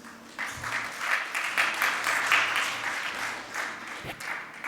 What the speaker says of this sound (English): So can I get a big, massive round of applause for Noushin?